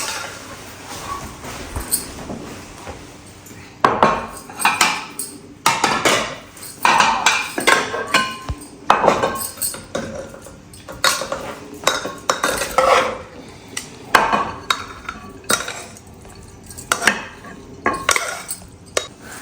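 Masala rice is scooped out of a metal pressure cooker into a bowl, giving repeated close clinks, scrapes and knocks of a spoon against the pot in an irregular rhythm with quiet gaps between.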